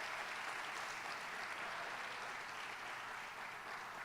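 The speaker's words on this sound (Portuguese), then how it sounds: "Dá um aplauso para Ele, aleluia." A congregation applauds during an evangelical church service in an arena, producing steady, dense, continuous clapping that stays loud and even throughout with no pauses.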